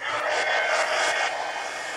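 A hair dryer blows steadily on wet ink in a magazine craft project, a continuous close airy whoosh lasting about two seconds with no voices.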